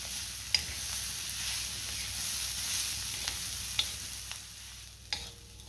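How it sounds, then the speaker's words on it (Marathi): Pea kharda with finely chopped coriander is sautéed in oil in a pan, a soft steady sizzle with occasional scraping stirs and light clinks of the spatula, close and moderately quiet. "छान आपण 2 मिनिटं हा खरडा परतून घेऊया तेलावरती"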